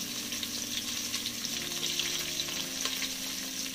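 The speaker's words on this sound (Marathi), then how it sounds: "आता आपण जो कट करून कांदा घेतले तोही आपण घालूया त्याच्यामध्ये" Chopped onion and red chili sizzling steadily in hot oil in a pan, a close, continuous fry with faint stirring and no talk.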